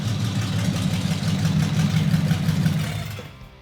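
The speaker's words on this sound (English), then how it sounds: "That's the reason I chose this engine from the start, because of the sound." A car engine idles with a steady, deep, throaty rumble and a rough, pulsing low drone, loud and close with no voices, its tone like an old WWII fighter plane before fading slightly at the end.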